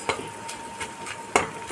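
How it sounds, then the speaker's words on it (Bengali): Grated coconut fries in a pan over low heat, with a few soft scraping stirs and faint sizzle in a quiet kitchen. "একটু সুন্দর করে এটা আমি ভাজবো যাতে নারকেলের কাঁচা গন্ধটা চলে যায়।"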